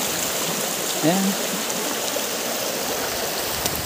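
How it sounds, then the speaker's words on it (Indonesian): A clear shallow river flows steadily on a forest hillside trail, a continuous broad wash of rushing water, with a brief voice speaking over it once. "Nah, seperti ini keadaan sungainya."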